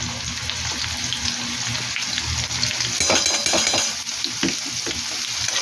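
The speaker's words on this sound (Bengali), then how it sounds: "পেঁয়াজটা ভেজে রসুন বাটা হাফ চামচ মতো দিয়ে দিলাম।" Fried onion with garlic paste sizzling in a pan for chicken kosha, a steady close hiss with a flurry of spatula scrapes and clanks in the middle, and running water heard at times.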